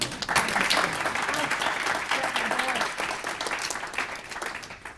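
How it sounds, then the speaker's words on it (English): An audience claps together in a sustained, full burst of applause that holds steady throughout and eases slightly at the close. "Just a round of applause for Miss Katie Sinclair."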